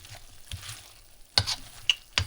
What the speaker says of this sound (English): So I'm going to let it simmer for a few minutes so it can warm back up.